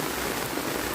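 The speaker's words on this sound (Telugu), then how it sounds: "వర్షం అనేది ఫుల్గా కురిసేస్తుంది" Heavy downpour in Srinivasapuram, a dense, steady hiss of rain pouring onto surfaces, close and continuous through a very short stretch.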